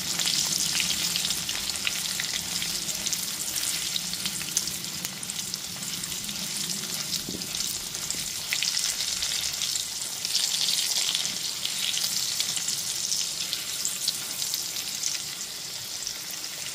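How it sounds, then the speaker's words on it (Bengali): Potato pieces fry in oil seasoned with salt and turmeric over a medium gas flame, a steady close sizzle with crackling hiss running continuously throughout, no talking. "এবার গ্যাসের ফ্লেমটা মিডিয়ামে রেখে আলুগুলোকে লাল করে ভেজে নেব।"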